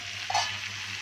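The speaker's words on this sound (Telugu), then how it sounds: "దీన్ని బాగా కలుపుకుని ఇప్పుడు ఈ చికెన్ని బాగా కలుపుకుందామండి" Marinated chicken stirred and frying in a pan over low flame, a steady close sizzle with a brief louder scrape of stirring near the start, no voices.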